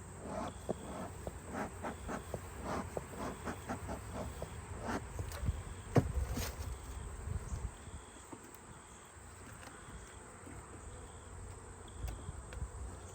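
Honey bees buzz at an open hive during a mid-September inspection, a steady close drone with individual bees zipping past and a louder pass near the middle. No one speaks.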